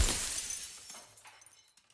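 Glass shatters in the video game Slay the Princess, a loud close crash at the start whose tinkling fragments scatter and fade over about two seconds.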